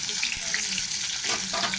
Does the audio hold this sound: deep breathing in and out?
no